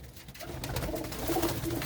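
Pet pigeons kept at a Punjabi village house give a soft, low cooing close by, a couple of short throaty calls over a muffled background hum.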